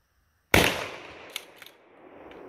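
A .410 shotgun fires a single buckshot round at an outdoor range: one sharp, loud blast with a short decaying tail and two faint clicks afterward.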